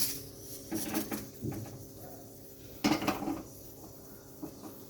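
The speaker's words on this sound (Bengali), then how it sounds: "এবার আমি ডালটা সরিয়ে নিচ্ছি বসিয়ে দিচ্ছি একটা কড়াই" A metal wok clanks down onto a stovetop in a few sharp knocks, with lighter clinks and scrapes between them, close by.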